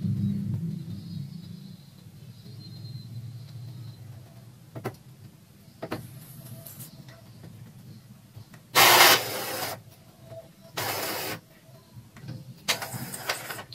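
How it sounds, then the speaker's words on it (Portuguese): An Epson L355 inkjet printer reading its ink cartridges, with a low motor hum fading into scattered ticks and clicks, then several loud rasping bursts of print-head carriage movement, all close and without talk. "O cartucho está fazendo a leitura aqui."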